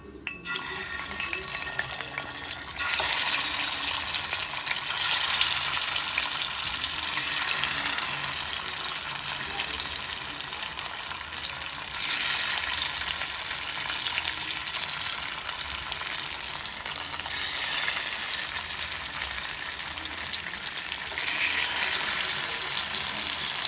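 Fish curry (meen kuzhambu) bubbling as it comes to a boil, a steady hissing simmer with bursts of louder frothy bubbling, close and continuous with no talk.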